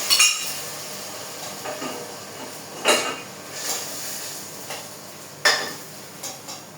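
Mutton is stirred in a cooking pot, with a few scattered metallic scrapes and clinks of a spoon against the pot over a quiet background.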